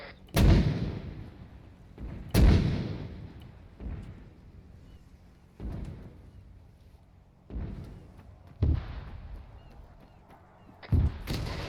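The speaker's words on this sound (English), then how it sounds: "Still sending out mortar fire missions." Mortar rounds fired in ArmA 3: about seven heavy, booming detonations spaced a second or two apart. Each thud rings out and fades, with faint chatter between blasts.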